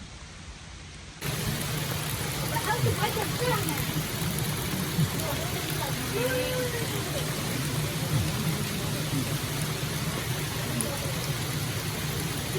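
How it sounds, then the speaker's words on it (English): Heavy rain pours down on an RV campsite at Killens Pond State Park, Delaware. After a brief quiet opening, a dense, steady hiss of rainfall begins and continues unbroken and fairly loud. "It's pouring right now, so I'm gonna get out of the rain."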